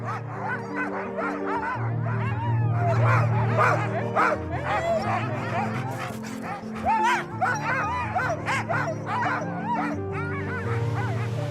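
A pack of Greenland sled dogs barks, yips and whimpers excitedly, many overlapping voices near and far in a constant noisy chorus.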